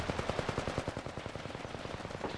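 Enemy gunfire in Apex Legends, a rapid automatic burst of evenly spaced close shots rattling out continuously for a couple of seconds at a fast steady rhythm, with no talking.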